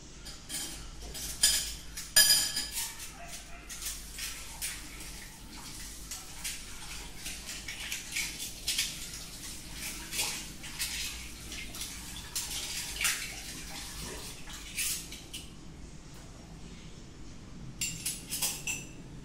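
Spoons being rinsed under running water, with irregular metallic clinks of cutlery against each other and splashing over a steady flow, close and moderately quiet, no talking.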